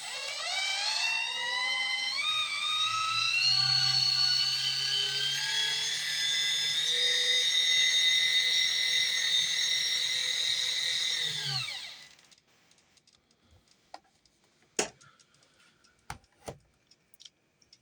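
A model heavy hauler truck's motor whines steadily in low gear, a high electric hum for about twelve seconds before cutting off, followed by a few faint clicks and taps.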